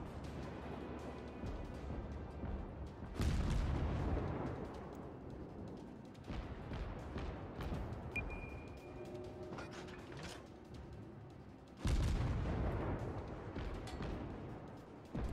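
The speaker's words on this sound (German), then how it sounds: "der wurde schon zerstört, aber auch die Explosion sehr schön" A destroyed ship exploding in the naval combat game World of Warships, with heavy booming blasts and metallic rumbling, followed by further loud concussive hits and mechanical clatter, no voices.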